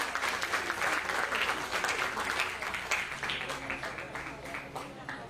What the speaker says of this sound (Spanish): El aplauso cariñoso.